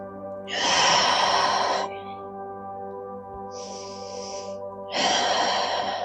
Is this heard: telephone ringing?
no